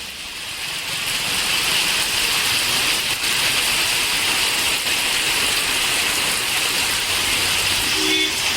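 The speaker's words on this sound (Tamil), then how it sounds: "மேலாக பெய்த கனமழையால் வீதிகளில் நீர் தேங்கியது" Heavy rain pours onto waterlogged streets, a steady wash of hiss and splatter that swells in the first second and stays constant, with faint passing traffic rumble beneath.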